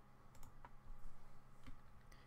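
Quiet clicking on a computer keyboard as a folder name is typed, a short, irregular run of light keystrokes, close and soft, with no talking.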